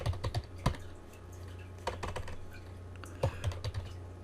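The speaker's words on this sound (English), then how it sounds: "start a GoFundMe for Don for typing and spelling lessons." Typing on a computer keyboard, sharp key clicks in uneven bursts with pauses between, close and crisp over quiet room tone, no speech.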